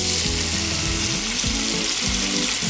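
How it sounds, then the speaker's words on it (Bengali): Soya chaap sizzles in hot white oil, a loud, dense, continuous frying hiss close by, with faint clinks of a utensil and no voices. "এখানে দিয়ে দিব সাদা তেল, সোয়া চাপগুলোকে দিয়ে দেবো।"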